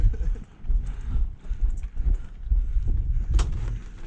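Horse hooves clip-clop in a steady rhythm against a low rumbling background, fairly close.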